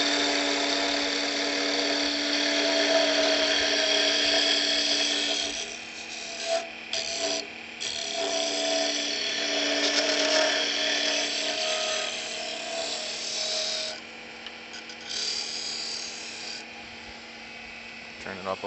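Wood lathe spinning near 2,500 RPM while a cutting tool shapes a Christmas tree ornament, a sustained whining hum with shifting tones and brief dips as the tool bites in, with no talking.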